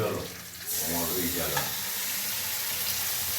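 Spice masala of ground coriander, cumin, ginger and Kashmiri red chili sizzles in a pan of oil while being stirred, steady crackling frying with scraping spoon strokes, close and loud throughout.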